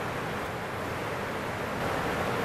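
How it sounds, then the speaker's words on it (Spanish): Spring water surging up at the source of the Purón river in Asturias, a dense, continuous rushing and gurgling roar that stays loud and close throughout, with no voices. "¿Eso quiere gorgotear? Sal para arriba, emerge. Una surgencia."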